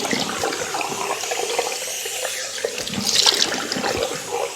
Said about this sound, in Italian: Bagno il viso e procediamo